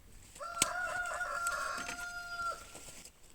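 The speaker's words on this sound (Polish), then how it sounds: "Kury pieją, wpisując się w taki już polski sielski klimat" A rooster crows once in a long, sustained call lasting a couple of seconds, close and clear, with faint farmyard noise around it, on a rural homestead in Poland.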